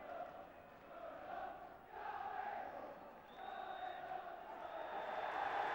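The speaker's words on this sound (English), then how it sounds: "Going up is the cry of the crowd" A distant football stadium crowd roars and swells in waves, rising louder toward the end, with a brief high whistle-like tone partway through, the referee's final whistle.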